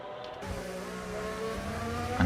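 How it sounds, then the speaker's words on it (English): An F2 race car in a racing video game braking hard into turn 11 at COTA, a steady close engine drone with shifting pitch and tonal whine, continuous and loud throughout. "Now for the heavy braking of turn 11"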